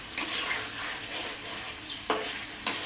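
Broiler chicken cooking down in spiced oil in a pan, a low steady sizzle with a couple of sharp spoon scrapes near the end, close and alone.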